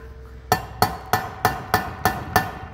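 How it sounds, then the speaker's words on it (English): Seven sharp metallic hammer strikes on a seized turbo wastegate arm of a BMW X5 35d ring out in a steady, even rhythm, each hit close and loud with a short clanging decay. "I can't even make it open with a hammer"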